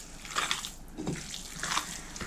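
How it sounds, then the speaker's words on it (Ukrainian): Broth being poured into minced meat for mititei, splashy watery bursts in two short pulses, close and fairly quiet, with no talk. "Вливаю решту бульйону і гарно буду вимішувати руками"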